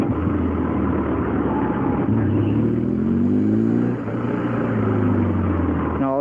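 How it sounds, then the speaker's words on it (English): Motorcycle engine of a BMW R1200GS riding through road traffic, a steady loud rumble with shifting pitch as revs rise and fall, close and continuous. "Ah, fucking traffic."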